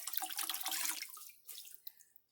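Close splashing and trickling as a canister filter sponge from an aquarium is squeezed out in water, a dense wet burst for about a second, then lighter drips and small sloshes.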